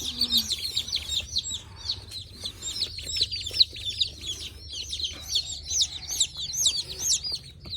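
Many baby ducklings and chicks peep and cheep constantly in high, rapid chirps, close together and overlapping.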